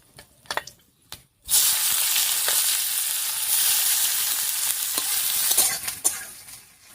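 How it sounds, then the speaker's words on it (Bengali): Chopped onion dropped into hot oil with black cumin and dried chili, for a mankochu bata dish, bursting into a loud, steady sizzle that carries on close up after a few brief knocks and stirs. "ফোড়নের সঙ্গে পেঁয়াজটাকে বেশ লাল লাল করে ভেজে নিয়েছি"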